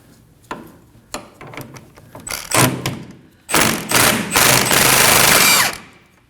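Socket wrench turning an 18mm nut off a rear lower control arm on a 2011-2016 Kia Optima: scattered clicks and thumps, then rapid ratcheting bursts building into a loud sustained whirring rattle near the end.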